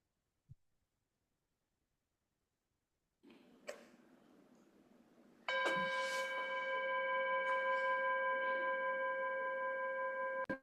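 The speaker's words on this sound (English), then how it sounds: "So if you want, Teresa, you can go ahead and start the bell" A meditation bell is struck at the start of a group meditation session, one clear strike followed by a long, steady, sustained ringing tone that fills the quiet room until the end.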